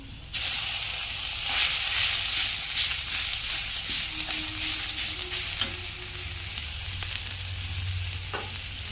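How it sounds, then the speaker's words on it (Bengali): Taro pieces fry in hot oil with black cumin, turmeric and salt, a loud continuous sizzle close up with occasional stirring scrapes and clinks throughout. "হলুদ, লবণ দিয়ে ভালো করে ভাজতে হবে।"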